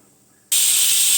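A pressure cooker whistle bursts on abruptly after a quiet moment, a loud, steady, high-pitched hissing shriek that continues without a break.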